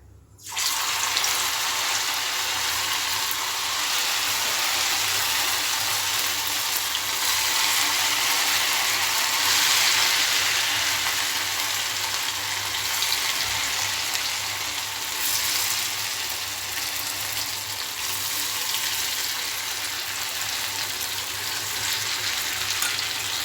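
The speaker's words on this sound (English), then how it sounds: "So now I am frying this chicken." Marinated chicken 65 frying in hot oil, a loud continuous crackling sizzle that holds steady for over twenty seconds without talk.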